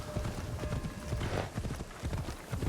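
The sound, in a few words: horse hooves in video game Assassin's Creed Shadows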